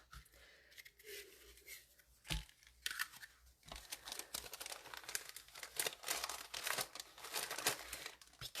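Paper being trimmed for a handmade fold card, a run of crisp snips, rustles and crinkles at close range, irregular and fairly quiet.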